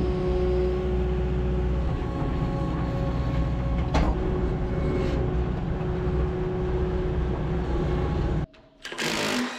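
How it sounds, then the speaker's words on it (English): A skid steer loader drives on a farm with a continuous, loud engine drone and mechanical rattle, a sharp knock partway through, then a sudden drop and a brief burst of noise at the end. "I'm gonna go grab the skid steer"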